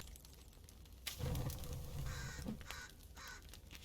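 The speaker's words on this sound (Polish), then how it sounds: "Ale ładny ptaszek." A crow caws in the forest of the survival video game The Forest, giving a few faint, hoarse calls over a quiet, crackling ambient background.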